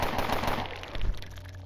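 Burst fire from a gun in the turn-based role-playing game Underrail, a rapid rattling volley of shots that fades into a lingering echoing tail, with no voices over it.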